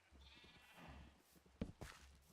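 Sheep bleating in Minecraft survival mode, a short distinct bleat rising over a quiet, low background hum of game ambience, heard once or twice near the end.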